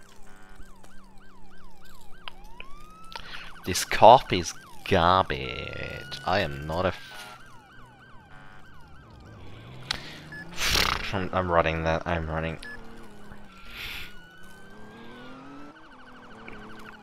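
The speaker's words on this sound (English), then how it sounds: "I hear more sirens." Emergency vehicle sirens in the ER:LC game wail and sweep up and down repeatedly, moderately loud, mixed with game effects and bursts of noise while someone talks throughout.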